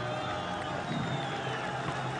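Stadium crowd at a Ghana vs Sudan AFCON 2025 qualifier applauding substituted players as they leave the field, a steady, dense wash of distant crowd noise running throughout under commentary talk.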